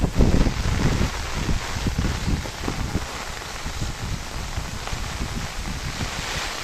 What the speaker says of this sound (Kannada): ತುಂಬ ಗಾಳಿ ಮಳೆ ಬೆಳಗ್ಗೆನೂ ಇದೆ